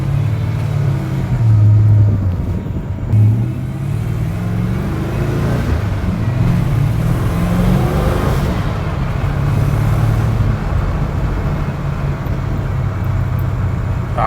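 A custom Ford F-150 sleeper pickup truck engine rumbles loud and close from inside the cab, a deep, steady drone that rises and swells as the truck accelerates.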